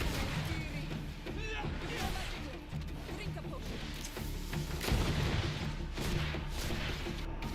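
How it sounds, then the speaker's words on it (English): A grenade explodes in the video game GreedFall as a loud burst within dense, continuous combat noise of blasts and crashes, with people talking over the action. "Now you say watch out, grenade."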